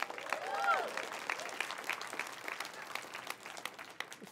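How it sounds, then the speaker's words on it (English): Audience gives a round of applause at a talk, dense clapping at moderate distance with a faint voice or whoop briefly rising early, tapering slightly over time. "Big round of applause for opting into something special."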